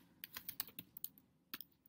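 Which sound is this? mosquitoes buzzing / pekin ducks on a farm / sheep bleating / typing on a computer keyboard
typing on a computer keyboard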